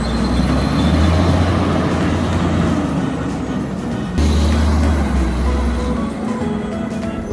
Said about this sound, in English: Listen to that engine rumble.